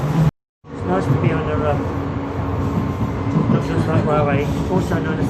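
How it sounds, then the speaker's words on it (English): Onboard a Docklands Light Railway train at night, a continuous rumbling ride with rising motor whine and wheel noise, someone speaking over it, after a short silent gap at the start. "It's nice to be on the Docklands Railway, also known as the DLR."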